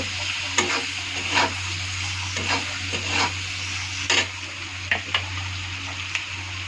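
A spice paste with salt and turmeric sizzles and fries in a pan, a steady hiss over a low electrical hum, punctuated by scraping stirs and clicks from a spoon.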